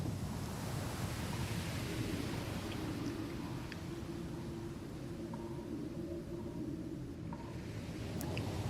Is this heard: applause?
no